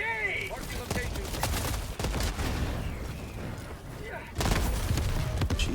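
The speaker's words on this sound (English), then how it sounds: "I'm gonna try to hit it with a grenade." Grenade explosions and rapid gunfire in a video game, a dense continuous barrage of booms and shots with a sharp renewed burst near the end, and people talking over it.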